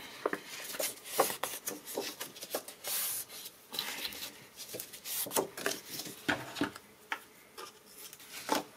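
Paper sheet, 10.5 by 23 cm, being creased and bevelled along its folds for a card project: a run of dry scraping, rubbing swipes in irregular bursts, close and fairly soft, with no voices.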